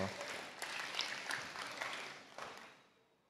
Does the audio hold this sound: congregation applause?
yes